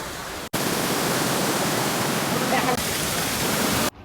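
A waterfall among the hills gives off a steady, broad rushing roar that runs continuously between abrupt cuts at the start and end, with no clear voices above it.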